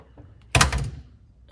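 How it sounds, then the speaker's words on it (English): The wind blows a door shut with a single heavy thunk and a short rattling decay, loud and close, followed by quiet. "Thanks, Wind, for closing the door."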